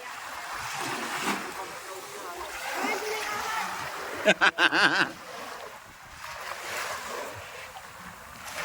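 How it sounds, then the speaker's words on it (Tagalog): Strong ocean waves slosh and splash around a small boat at sea, with a cluster of sharp, loud splashes partway through over wind and water noise, and people talking. "lakas na ng alon"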